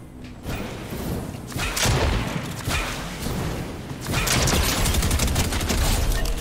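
Loud, heavy bursts of Fortnite gunfire and booming impacts during a Chapter 3 Season 3 live event, rolling in waves with a stronger barrage toward the end and no talking.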